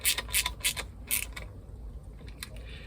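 Ratcheting and creaking of a tool tightening fasteners on an Eberspächer Hydronic DS4W diesel water heater during a service, with a series of short clicking bursts close by, then quieter mechanical creaks.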